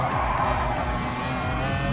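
Race car tires squeal and skid amid engine roar in the racing video game Gran Turismo Sport at Lago Maggiore, a loud, dense, continuous burst lasting about two seconds.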